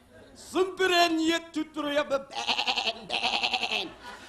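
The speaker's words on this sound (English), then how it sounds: "We encountered there many sheep." Wavering, tremulous bleats ring out in a series of drawn-out calls, close and fairly loud, the last ones pulsing rapidly.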